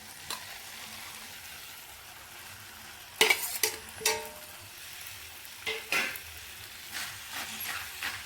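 Potato and carrot sizzle in a frying pan for a singara filling, a soft steady hiss broken by several louder scrapes and clacks of stirring, with no one talking.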